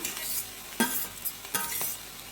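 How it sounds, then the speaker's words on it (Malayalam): Drumstick leaves and grated coconut are stirred in a pan, with several scraping strokes of a spoon over a soft sizzle, close and without talk. "തുറന്ന് വെച്ചിട്ട് തന്നെ നന്നായിട്ട് ഇളക്കി കൊടുക്കുക"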